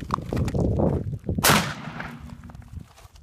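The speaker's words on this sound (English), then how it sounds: "This is 12 gauge, 2 3/4, high brass." A single sharp shot from a 12 gauge shotgun firing 2 3/4 inch high brass number 4 shot into an interior wall, a loud close crack partway through, preceded by rustling handling noise and followed by a fading tail.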